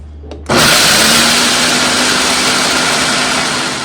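A blender grinds peanuts into homemade peanut butter. It starts abruptly after a short quiet moment and runs as a loud, steady, harsh whir with a constant motor whine that eases slightly toward the end.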